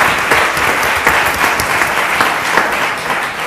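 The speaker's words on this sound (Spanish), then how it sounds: "Un aplauso, Miguel." Applause from a conference audience for a panel speaker at a congress session: a short, dense burst of clapping, fairly loud and even throughout.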